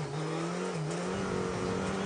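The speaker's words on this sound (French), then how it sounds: "attention à ce freinage là, on sent la Skoda se chercher un petit peu" A Skoda rally car on a Monte Carlo Rally stage brakes and then accelerates, its engine note dipping and climbing in a steady loud drone at middle distance, with no commentary heard.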